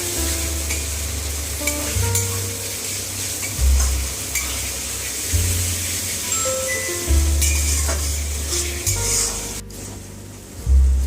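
Barramundi fish fat sizzles and crackles steadily in a hot frying pan, with low bubbling bursts and occasional stirring scrapes, close and continuous with no talking.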